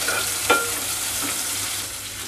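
Moong dal khichdi base with onions being stirred in a pan, a steady frying hiss with a single sharp utensil scrape near the start, then continuous soft sizzling alone.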